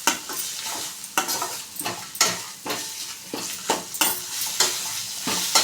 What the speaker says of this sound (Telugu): కలుపుకుని ఇంకా పచ్చివాసన పోయేంత వరకు వేగనిద్దామండి.